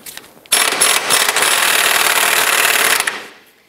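A power tool loosens 18 mm subframe bolts on the cradle of a 2008–2013 Nissan Rogue, a loud continuous buzzing whir starting abruptly and running steadily for about two and a half seconds before cutting off.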